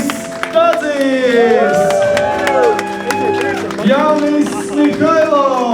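A concert audience applauds and cheers steadily while a presenter calls out names over a loudspeaker.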